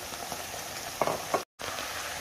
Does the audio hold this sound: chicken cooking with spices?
yes